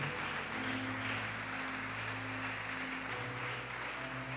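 A church congregation applauds during a Portuguese-language sermon, producing a dense, steady wash of clapping over sustained keyboard chords, with no speech.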